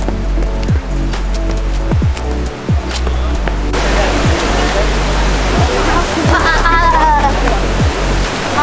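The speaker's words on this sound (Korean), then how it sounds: "물소리가 들려요?" Bridalveil Fall in Yosemite roars as a steady, loud wash of falling water close by, filling the whole clip while someone talks over it.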